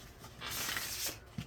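Tarot cards are shuffled in a soft, papery riffle that swells for about a second, followed by a brief tap near the end, with no talking.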